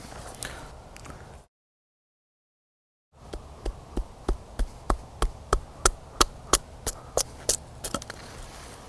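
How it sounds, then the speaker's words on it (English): Bowie knife blade shaving curls off a poplar stick to make a feather stick: after a brief silent gap, a steady series of about a dozen sharp, evenly spaced scraping strokes, close and clear, with no one speaking. "I hate trying to do a feather stick with this poplar, but I'm gonna do it anyway."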